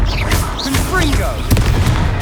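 The Confringo blasting spell in Hogwarts Legacy goes off amid layered combat effects and music, with a low boom under shouted spell incantations and character voices throughout.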